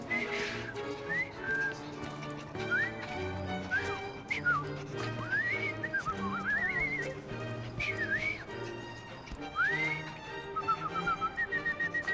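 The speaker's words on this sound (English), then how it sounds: "I've just learned to whistle." A character in Assassin's Creed Syndicate whistles a series of short rising and falling tunes, fairly close and clear over a steady musical score with faint hoofbeats and horse sounds.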